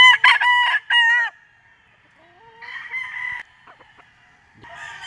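Gamefowl bull stag roosters at a game farm crow loudly nearby, with several cock-a-doodle-doo calls in succession, quieter clucking, and another crow starting at the end.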